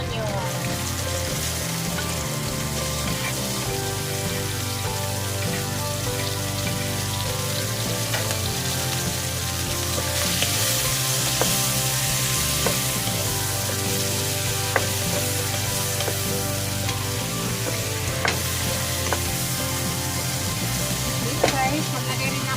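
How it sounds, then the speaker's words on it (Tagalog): Plenty of sliced white onions sizzle and fry in a pan, a steady, close crackling hiss with faint stirring clicks, continuing without a break throughout. "Lutuin natin sibuyas natin. Maraming white onion."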